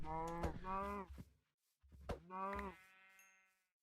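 Cows mooing in Minecraft, two drawn-out moos close by, each lasting about a second, separated by a short gap, with no talk over them.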